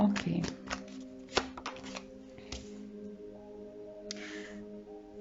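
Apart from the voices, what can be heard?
shuffling tarot cards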